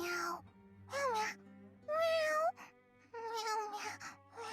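Game cat meows in Infinity Nikki, a series of clear, tonal mewing calls repeated in short bursts with brief pauses between them, loud and close over a soft background hum.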